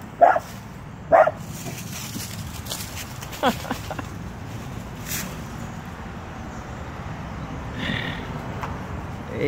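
Small dachshund barking at a full grown rottweiler outside, with two loud close barks at the start followed by quieter scattered yaps and rustling, then a faint sound near the end.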